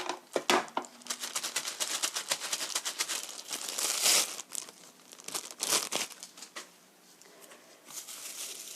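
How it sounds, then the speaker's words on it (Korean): A plastic bag holding potato starch crinkles and rustles in rapid, irregular bursts close by in a kitchen, loud crackles coming and going over several seconds with no talking. "비닐팩이에요."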